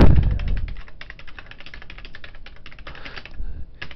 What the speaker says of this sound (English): apparently I can't talk and type at the same time.